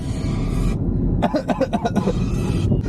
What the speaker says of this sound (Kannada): ಕೈ ಇಟ್ಕೊಂಡು ಕೆಮ್ಬೇಕಂತ ನಿಂಗೆ ಯಾರು ಹೇಳ್ಕೊಟ್ಟಿಲ್ವಾ?